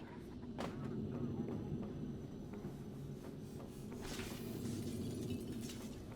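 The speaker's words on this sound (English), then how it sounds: "I can even smash this glass, not that it goes anywhere." Glass smashes in the video game Prey: a quiet, brief shattering crack followed by faint scattered tinkling over a low background hum.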